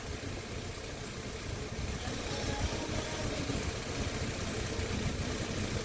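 Steady, unbroken engine hum from a 2005 Mini Cooper idling with a cylinder misfire, heard close with a constant rumble and no clear breaks or surges.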